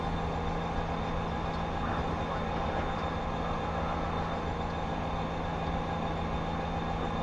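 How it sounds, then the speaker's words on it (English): Union Pacific SD60M freight train running on Sherman Hill, a steady continuous rumble with a constant low engine hum, fairly close and unbroken throughout without any talk. "I can still hear the train very nicely in my headset"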